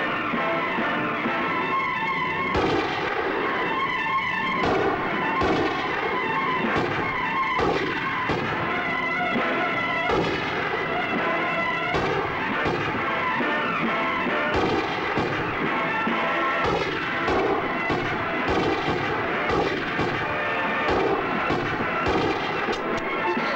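Rapid gunfire and heavy artillery-like blasts crackle continuously through a Bollywood action movie scene, dense repeated shots layered with booming impacts at steady high volume.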